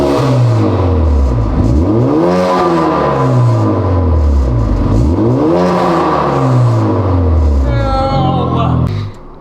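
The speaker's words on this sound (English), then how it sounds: "So now, when my valve is closed, it makes this noise." Elantra N fitted with a broken Sxth Element valved titanium exhaust, valve closed, revving loudly in two long rising and falling pulls with a rattling, droning tone, then dropping off near the end.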